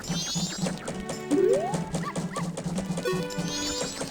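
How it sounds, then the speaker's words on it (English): A dog yapping and snarling in attack in The Legend of Zelda: Majora's Mask, sharp synthesized barks and whimpers repeating over steady game music, with a brief rising chirp midway. "there's a little clock below us and also a dog attacking us"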